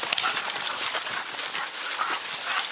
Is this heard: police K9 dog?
yes